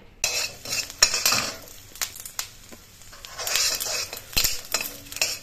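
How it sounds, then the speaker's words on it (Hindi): Peanuts fry in ghee in a home kitchen pan, with a spoon clattering and scraping against the metal in irregular stirring bursts over a soft background sizzle. No one speaks. "तो यहाँ पे मैं मूंगफली फ्राई कर रही हूँ घी में।"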